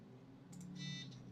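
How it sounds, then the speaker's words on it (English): Computer beeping during repair, faint short high tones with a longer tonal beep over a low electrical hum. "Well, yeah, it's beeping."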